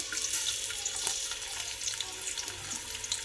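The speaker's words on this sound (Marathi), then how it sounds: "कांदा टाकायचा" Chopped onion dropped into a hot pan for chicken dum biryani crackles and sizzles close by, with stirring scrapes and small spitting pops over a short steady fry.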